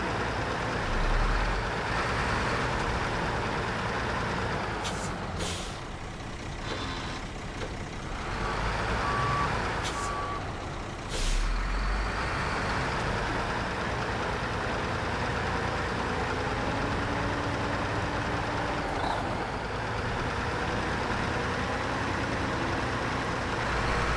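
A video game truck backs up and parks, its steady reversing beeper sounding over a droning idling engine, with a couple of brief clunks midway.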